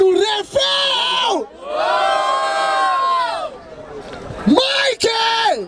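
Crowd at a rap battle in Barueri, São Paulo, roaring and whooping for a rapper's rhymes in loud sustained waves that swell, dip briefly and surge again.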